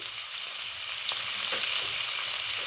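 Onions frying in a pan for a simple curry, a steady high sizzle with a couple of soft stirring scrapes, no voices.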